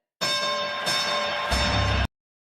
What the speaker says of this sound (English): When you hear the bell, you know what that means.